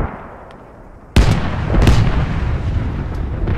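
A tank cannon fires in the video game Squad, one sudden loud boom followed by a second blast and a long rumbling decay under steady engine noise.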